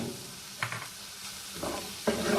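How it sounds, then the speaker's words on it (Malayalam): Snake gourd thoran frying in a pan, a steady soft sizzle with a few spoon scrapes and stirs at intervals, close and alone. "ഒന്ന് ഇളക്കി യോജിപ്പിച്ച് നമ്മൾ ഈ എടുത്ത് വെച്ചേക്കുന്ന തോരപ്പരിപ്പൂടെ ചേർക്കാം"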